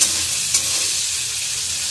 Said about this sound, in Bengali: এটা খুব কড়া করে ভাজবো না